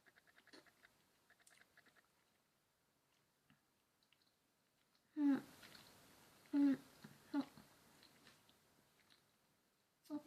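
Soft, wet chewing of sticky candy sushi, close to the ear, with a few distinct squishy bites and mouth sounds over a quiet background and faint earlier rustling.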